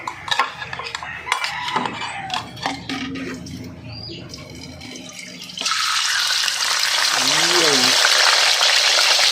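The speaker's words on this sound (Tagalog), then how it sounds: "magpiprito na tayo ng ating daing na bangos" Dried milkfish (daing na bangus) going into hot oil in a home pan: utensils and pan clatter at first with a brief spoken word, then a loud, steady sizzling hiss that rises and holds.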